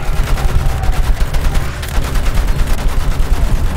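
Loud, continuous machine gun fire in a battle, with rapid rattling bursts running together over a rumbling background and no pauses.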